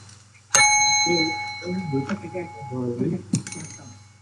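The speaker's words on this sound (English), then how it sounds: "Ring the bell, Howard." A bell is struck twice, a bright ringing tone that lingers before the second strike, with people talking in between.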